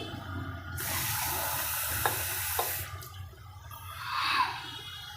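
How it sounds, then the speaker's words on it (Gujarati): Water pours in a steady hissing stream into a bowl of flour batter, stops briefly, then resumes with a gurgling splash as it mixes into a thick batter. "હવે આપણે થોડું થોડું પાણી નાખી અને ખીરા જેવું બનાવી લઈશું"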